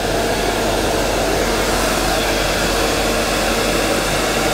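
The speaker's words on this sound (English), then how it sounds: "Just so happens we have a hairdryer just to speed this up." A hair dryer blows continuously, a loud, steady airy roar with a constant motor whine, close by and unchanging.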